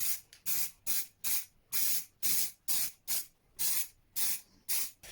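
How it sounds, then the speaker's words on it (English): Short bursts from a spray paint can onto a custom motorcycle part, about a dozen sharp hissing sprays in a quick regular rhythm, close and fairly loud with brief gaps between. "I can actually spray paint that, couldn't I?"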